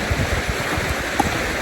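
A river stream rushes through the Partnach gorge, a loud, steady, unbroken roar of flowing water with no voices.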